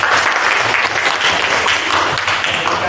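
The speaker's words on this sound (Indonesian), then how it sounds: "Oke, tepuk tangan teman-teman." Secondary-school students in a classroom clap together in steady, dense applause that fills the room for a few seconds.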